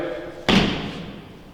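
A single hard foot stomp on the floor inside an abandoned asylum building, one loud sharp thud with a short reverberant decay in a quiet room.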